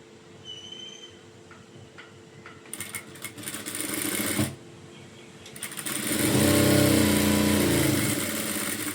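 A sewing machine runs a seam on a blouse in two short whirring bursts close by, the second longer and louder, with quiet handling between runs.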